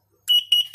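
Huxley autoclave, just repaired after a leaking pressure switch, sounding two short high electronic beeps in quick succession, clear and close, with no voice over them.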